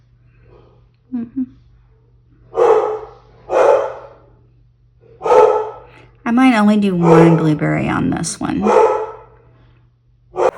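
Dogs bark indoors in several separate bursts, interspersed with a person talking nearby and a low steady background hum.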